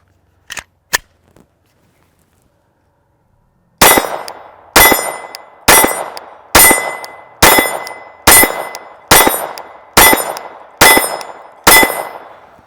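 A Glock G44 pistol fires a full magazine of Remington Viper rimfire rounds outdoors, ten sharp loud cracks at a steady pace with ringing tails, after a couple of faint clicks and a pause.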